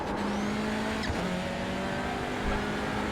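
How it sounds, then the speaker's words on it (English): Racing car engine in a Nürburgring racing video game: a steady droning engine tone holding a fairly constant pitch, with a faint whoosh partway through and no talking. "The car sounds really loud in my ears."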